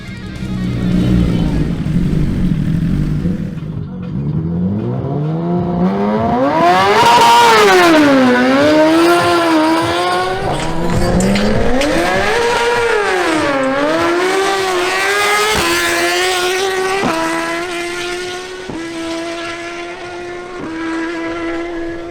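A Suzuki GSX-R1000 motorcycle on a drag racing run, engine roaring through rising revs with sharp climbing pitch sweeps and gear shifts, loud and close, then settling into a steady high whine as it pulls away.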